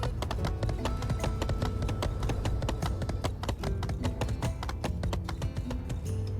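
Horse hooves clip-clop steadily while riding in the video game My Time at Sandrock, a fast even patter of hoofbeats over a constant low ambient bed, with no talking.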